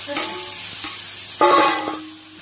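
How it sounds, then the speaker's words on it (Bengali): Potatoes are stirred through spice masala in a hot pan, with a few loud scraping clanks of the spoon over a soft sizzle, close by. "এখন আলুগুলো এভাবে আমি নাড়িয়ে খুব সুন্দরভাবে কষিয়ে নেব"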